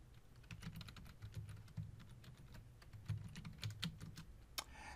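A terminal command being typed on a computer keyboard while configuring DNS on a Red Hat or CentOS 7 system: quiet, steady, close key clicks in an uneven rhythm, with a slightly louder keystroke near the end.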